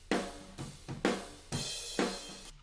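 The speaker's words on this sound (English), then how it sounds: "nice, crisp, clean cymbal sound, no problems" Cymbals from drum overhead microphones heard alone: a crisp wash of hits and crashes arriving roughly every half second, each bright strike decaying into shimmer, close and clear with no voices.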